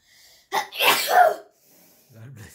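A single sharp human sneeze, close and loud, preceded by a faint breath and followed by a quiet voice afterward.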